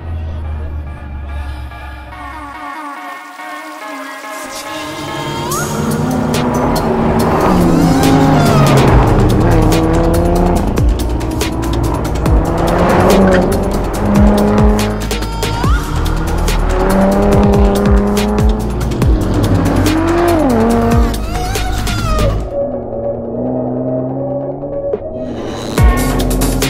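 2021 Lotus Evora GT cars lap an autocross course at a driving school, engines rising and falling as tires squeal repeatedly through the turns, loud and sustained for most of the stretch, with no talk over it.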